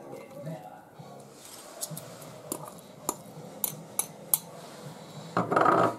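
Tuna and olives are spooned into a bowl of cold macaroni for a pasta salad. Several sharp metallic clinks of utensil on bowl come at irregular intervals, followed by a brief scraping rustle at the end, all under quiet room sound.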